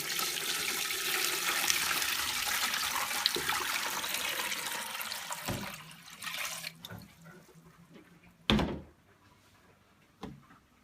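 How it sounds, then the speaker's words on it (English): Water pours steadily from a Brita pitcher into a countertop filtration system, a continuous loud gushing stream for about five seconds, then tapering into trickles and a couple of sharp knocks of plastic. "I'm going to use my little Brita pitcher here to pour some water in."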